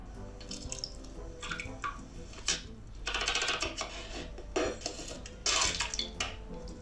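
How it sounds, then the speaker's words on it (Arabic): Tap water runs over strawberries being washed in a kitchen sink, a steady wash of water with bursts as the fruit is moved under the stream and light clinks of dishes nearby. "نغسل الفراوله"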